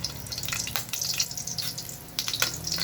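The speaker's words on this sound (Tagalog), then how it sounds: "painit po tayo ng mantika. At igisa natin yung bawang" Garlic sautéing in hot cooking oil for pinakbet, a soft steady sizzle and crackle with faint scraping, fairly quiet and without speech.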